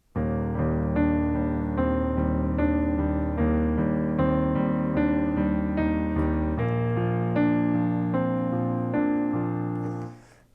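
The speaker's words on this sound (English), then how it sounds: "I like to play eighth notes with this thumb to give it a bit more drive" The chorus of a pop song is played on solo piano, with steady left-hand eighth notes driving under sustained chords for about ten seconds before fading out, no voices.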